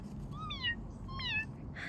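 Two distinct cat meows, one near the middle and one shortly after, each a rising-then-falling cry standing out clearly over a quiet low rumble of background noise.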